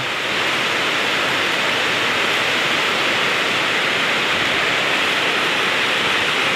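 Heavy rain pours down steadily on a mountainside warehouse site, a dense and constant broadband hiss that stays close and loud throughout, with no voices.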